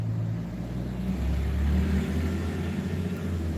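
Pickup truck drives past outside with a low rumbling engine, swelling to its loudest near the middle and then fading, steady and fairly close, with no speech.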